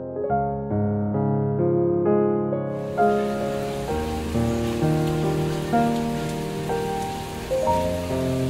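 Rain falls on a street in Taipei's Ximending, and from about three seconds in it makes a steady hiss that runs under loud, sustained melodic music.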